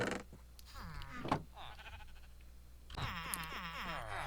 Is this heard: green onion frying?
no